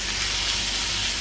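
Goat mince mixed with lightly fried onions sizzles steadily in a pan, a loud continuous frying hiss with soft stirring throughout and no talk.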